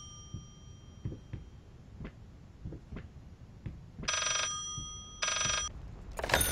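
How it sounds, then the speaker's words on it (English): Old telephone ringing in the Layers of Fear horror game: two loud, bright ring bursts about a second apart, then a third cut short, following a stretch of soft thuds and footsteps. "I hear the phone."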